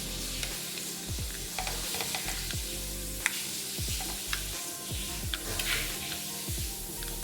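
Cumin seeds crackle and sizzle in hot oil on a gas flame, a busy popping spatter with scattered sharp ticks continuing steadily throughout.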